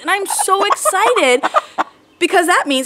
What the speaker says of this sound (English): you can hear the chickens in the background